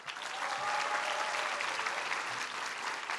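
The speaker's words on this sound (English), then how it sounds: "Give them a big round of applause" Audience applause at a university town hall in Kuala Lumpur, a sustained, even round of clapping from a large crowd, moderately distant and without speech.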